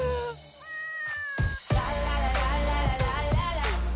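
A domestic cat gives a couple of drawn-out meows near the start, then thuds and a steady low hum with overlapping tonal sounds take over, leaving the cat voice brief and partly buried.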